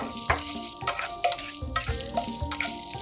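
Green and red peppers, garlic and chopped scallions stir-fried briefly in a little hot oil in a wok, a steady sizzle broken by repeated clatters and scrapes of the spatula, close and fairly loud with no talking.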